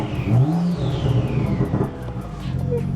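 A BMW M235i track car, recently crashed in the rain, pulls away under engine power, with a steady drone and a rising whine running under the engine note throughout.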